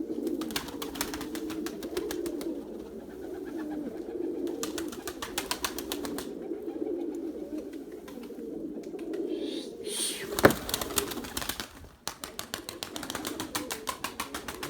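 Pigeons coo in low, steady, throaty murmurs nearby, with bursts of rapid wing flapping as birds take off and a sharp clap partway through.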